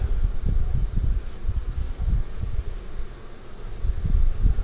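Honey bees hum low and dense inside a top bar hive that is getting swarmy, a close, steady drone with fluttering swells and no voices.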